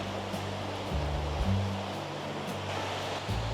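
A river below a road in Hulu Langat, Malaysia, rushes steadily as a broad, even wash of water noise, with a low hum running underneath throughout.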